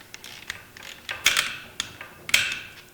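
A torque wrench tightens a fastener to 20 during final assembly of a 350, giving a run of close, dry ratcheting clicks with several sharper snaps, no talk.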